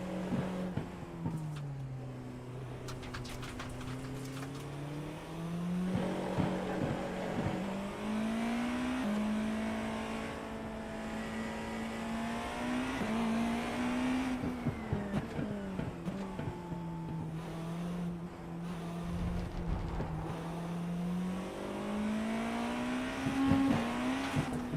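An LMP2 prototype race car in the iRacing sim weaves through the pit lane at Daytona, its engine droning at a limiter-held pitch that rises and dips with each swerve, steady and close throughout.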